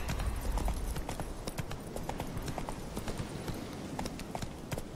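A horse gallops in The Witcher 3, its hooves clip-clopping in a steady, rapid rhythm that stays close and even throughout, over continuous game ambience.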